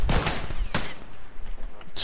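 Gunfire in The Last of Us multiplayer on the Water Tower map: two sharp shots, one at the start and one near the middle, fairly close and loud, with quieter background noise between them.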